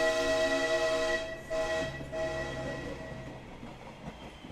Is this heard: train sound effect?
yes